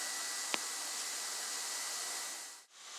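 Welding a handle onto a shovel made into a trapping trowel: a steady, loud broadband hiss runs nearly the whole time, with one sharp tick early on and a brief dip near the end.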